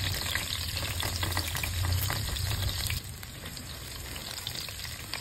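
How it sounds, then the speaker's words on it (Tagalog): Garlic and onion sautéing in a pan, a loud, continuous sizzle with stirring scrapes, softening slightly partway through but keeping on without pause, no speech. "maggigisa po tayo ng bawang at sibuyas sa panibagong kawali."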